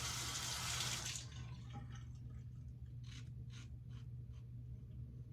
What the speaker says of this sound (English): let me rinse that real quick